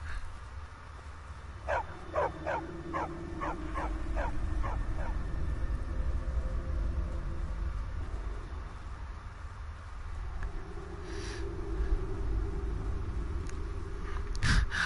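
Dogs in Skyrim bark in a quick series of sharp yips, then whimper and bark again more sparsely, over a low rumbling background with brief vocal sounds.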